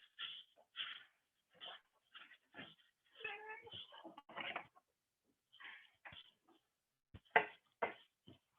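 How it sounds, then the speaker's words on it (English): A house cat waiting to be let outside gives a run of soft, short meows and whiny calls, scattered across several seconds in a quiet room, fairly faint and close. "I have to let my cat out."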